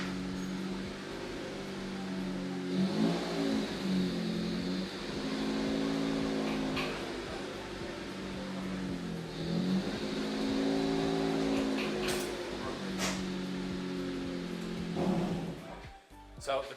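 A Dodge SRT-4 sits idling with a steady low engine drone, the revs swelling and dropping several times over a constant mechanical hum, close by and without speech.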